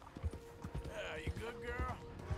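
Horse hooves clip-clop at a steady trot in Red Dead Redemption 2, with regular low thuds about twice a second while people talk over them.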